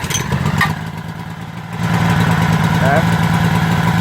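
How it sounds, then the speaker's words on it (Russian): A Makita petrol generator catches after a pull start and settles into a steady, loud idle, its engine drone filling the second half, with someone speaking briefly over it. "Генератор включился."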